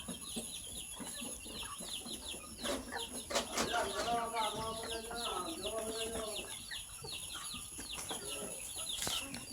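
Large native country chickens cluck and call inside a shed, with several birds layered in a busy, continuous chorus of short clucks and longer drawn-out calls at close range.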